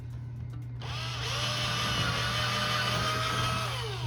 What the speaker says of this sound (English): we got a 5/16 drill bit, and we're going to start drilling this hole